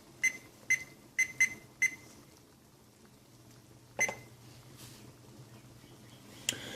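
A kitchen timer is set for 30 minutes: five quick high beeps in a row, then a single beep and a later one, fairly close over a quiet kitchen hum.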